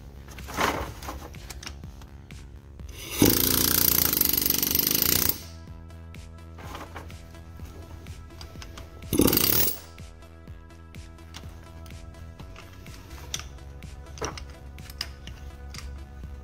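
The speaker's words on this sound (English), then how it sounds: "Alright, I got the air hammer. Let's see if it does anything." Two loud bursts of a pneumatic air hammer, one long and one short, working on a Hyundai Tiburon six-speed transaxle, breaking through quieter clicking and tapping.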